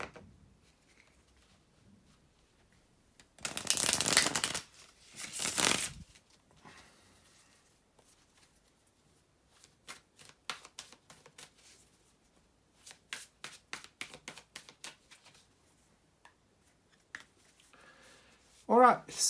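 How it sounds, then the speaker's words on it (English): Two brisk bursts of riffling tarot cards, followed by soft tapping and shuffling of the deck in quiet, close to the microphone. "bear with me just a couple of seconds, guys, to shuffle the tarot cards"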